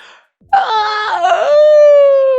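A single close, drawn-out human yawn that rises into a strained, groaning tone and then settles into a long sustained exhale.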